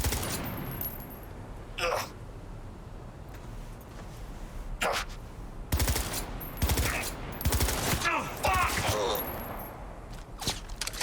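Gunfire in the video game Cyberpunk 2077, sharp bursts and single shots cracking out irregularly in loud clusters over a quieter ambient background.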